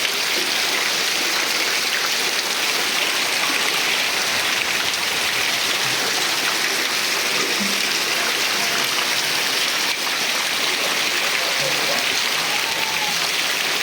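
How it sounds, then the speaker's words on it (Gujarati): Heavy rain pours down in a dense, loud, unbroken roar of water, like a rushing stream, steady for the whole stretch with no clear voices. "વરસાદ ભૂકા કાઢે"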